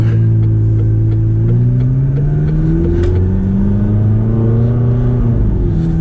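A McLaren 570GT pulling hard up a hill, its engine note climbing steadily in pitch as it accelerates, loud and continuous with no talk.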